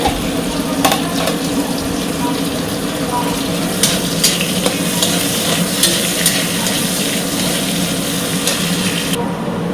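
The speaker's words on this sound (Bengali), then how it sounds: "চলো পেঁয়াজ রসুনটা ভাজা ভাজা হয়ে গেছে" Onion and garlic frying in oil for a dal tempering, a dense continuous sizzle close up with scattered ladle clinks and stirring scrapes, faint running water in the background.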